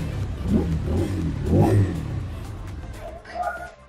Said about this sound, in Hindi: सुनाते हैं आपको एग्जॉस्ट ऑफ।